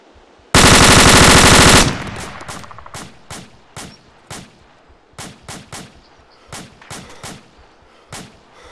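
A long, loud burst of automatic gunfire in the video game ARMA 2, lasting about a second, is followed by a steady series of single sharp shots spaced roughly half a second apart, with no talk over them.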